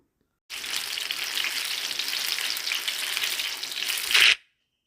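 Banana fritters fry in coconut oil with a dense, close sizzle that starts suddenly after a short silence, holds steady for about four seconds, swells briefly and then cuts off.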